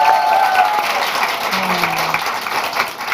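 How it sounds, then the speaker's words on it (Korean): A studio audience on a Korean talk show gives loud, continuous welcoming applause for a musical actress guest, a full wash of clapping that holds steady throughout. "다시 한번 환영의 박수 보내주세요."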